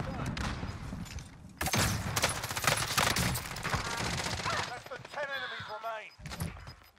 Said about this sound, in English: They're shooting at you right now, Strafe.